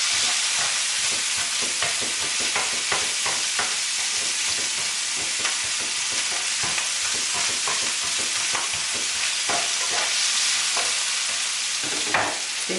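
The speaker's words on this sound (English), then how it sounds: "Give the sausage a stir." Sausage frying in a pan and being stirred: a constant loud sizzle with repeated scraping and clattering strokes of the utensil against the pan, no talking.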